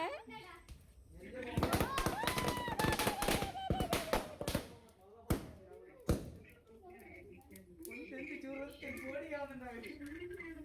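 Several sharp, loud firecracker bangs burst in quick succession amid excited voices and chatter at a New Year celebration, followed by talking as the pops thin out.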